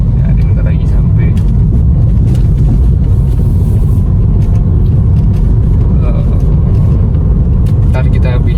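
A Honda Civic FD driving on the road toward a petrol station, with a steady, loud low rumble of engine and road noise running throughout and someone talking over it.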